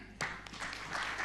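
Audience applause at an investor briefing after a speech: a brief, fairly faint patter of many hands clapping, heard from a distance.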